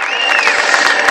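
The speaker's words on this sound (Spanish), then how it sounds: "Denle un fuerte aplauso" Crowd at an urban highline competition applauds and cheers an athlete, a loud, dense wash of clapping with a whistle rising through it, brief and continuous.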